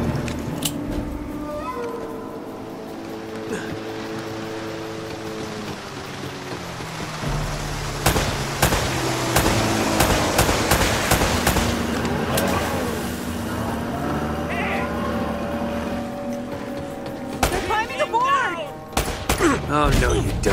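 Video game gunfire from Uncharted: Drake's Fortune rings out in rapid bursts of sharp shots, moderately loud over a rumbling background, with voices talking in between.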